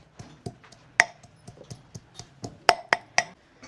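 Ginger and garlic being crushed by hand, a series of sharp, close knocks and taps in an irregular rhythm, about a dozen strikes with short gaps between them.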